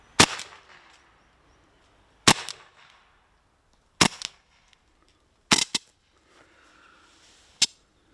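An HDR 50 CO2 gun fires in sharp, separate pops, about six shots spaced a second or two apart, some followed by a brief gassy hiss of escaping CO2, with quiet gaps between.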